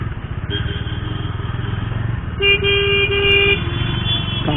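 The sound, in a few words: heavy road traffic with car horns honking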